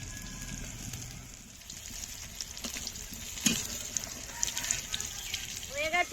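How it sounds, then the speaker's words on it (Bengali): Paneer cubes fry in oil in a pan with a soft continuous sizzle, punctuated by occasional spatula scrapes and clicks, growing a little louder toward the end; a voice is also present. "পনিরগুলো দেখুন হালকা হালকা লাল হয়ে গেছে আর একটু ভেজে নেবো"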